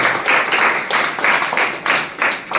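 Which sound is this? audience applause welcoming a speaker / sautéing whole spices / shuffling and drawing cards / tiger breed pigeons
audience applause welcoming a speaker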